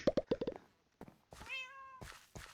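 Minecraft cat meowing close by, a rising then falling harmonic mew of about half a second, following a few quick soft clicks and thuds, with no talk.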